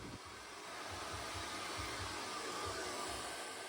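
A hair dryer blowing steadily on hair during an at-home salon-style blow-dry, a continuous close whooshing roar with no talk.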